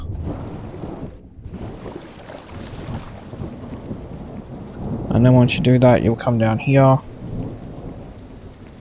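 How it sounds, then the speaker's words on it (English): Heavy rain and rolling thunder in the Horror Tales: The Beggar video game, a loud steady downpour with deep rumbles throughout, while someone talks over it in the middle. "let it continue to rain"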